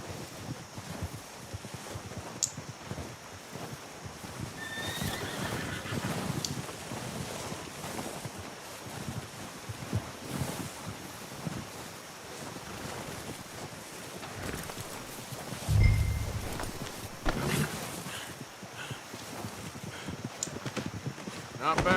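Horse hooves clip-clopping in Red Dead Redemption 2, irregular hoofbeats moving over ground with wind noise and occasional thuds, while voices talk intermittently over it.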